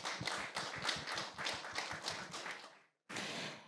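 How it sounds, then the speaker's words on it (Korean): Audience applause at a Korean political report-back event, a dense patter of many clapping hands that sustains for about three seconds, breaks off briefly, then resumes at similar strength. "더 큰 박수 부탁드리겠습니다."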